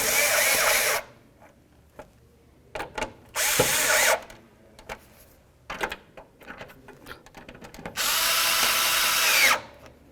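Power drill driving screws into a marker light assembly on a 1992-99 GMC K1500, three loud whirring bursts of about a second each separated by quieter clicks and handling noises, close up.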